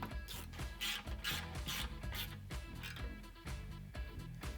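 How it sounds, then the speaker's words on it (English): A 6mm Allen key tightens bolts on a PUTCO modular cargo rack mounting block on a 2020 Jeep Gladiator, making quiet, rhythmic ratcheting and scraping strokes close by, with no speech. "And then we can get those tightened down using a 6mm Allen key."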